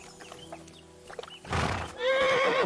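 A horse in Kingdom Come Deliverance 2 gives a loud, close whinny near the end, after faint hoof clops and scattered fowl clucks in a quiet outdoor scene.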